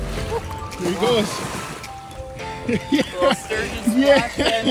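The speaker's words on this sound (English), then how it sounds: "Little Sturgeon splash" A sturgeon splashes in the Fraser River while being released during a fishing trip, watery sloshing and splashes running through the scene beneath excited voices of several people talking.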